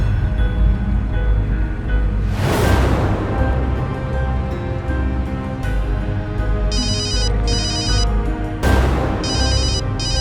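A telephone rings in repeated electronic trilling bursts, heard twice, over a loud rumbling background with sudden noisy whooshes, no speech.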